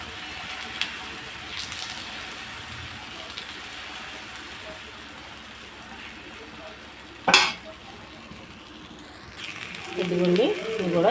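Ragi flour and jaggery atlu fry in oil in a pan with a steady low sizzle throughout, broken by one sharp utensil clatter and a louder burst of sizzling near the end.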